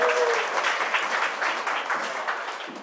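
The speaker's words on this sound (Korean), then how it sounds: "박수 부탁드릴게요" An audience at an artist talk concert in an AI art exhibition gives steady, even applause that fills the whole stretch at moderate loudness, with a faint voice at the very start.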